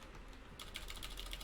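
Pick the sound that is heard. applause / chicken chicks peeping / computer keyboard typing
computer keyboard typing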